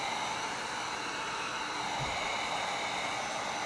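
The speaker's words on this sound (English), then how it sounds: "you don't want to hold this heat gun in one place too long because it could burn it a little bit" A heat gun blowing hot air over a decoration craft piece, a steady even hiss of airflow with a faint low thump partway through, no speech.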